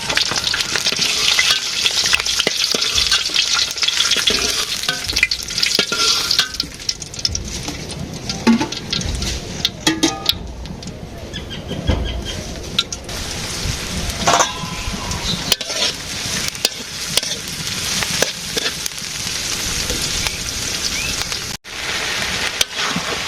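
Vegetable bhaji fries in a pan with a dense, continuous crackling sizzle like heavy rain, mixed with frequent scraping and knocking from stirring, loud and close throughout.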